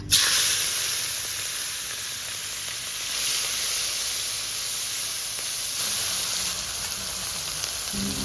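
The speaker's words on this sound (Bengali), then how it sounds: "তেল ভালো করে গরম হয়ে গেছে এবার চিংড়ি মাছটা তেলে ছেড়ে দেবো" Loud, hissing sizzle as prawns hit hot oil, a sharp burst at the start settling into a continuous frying roar.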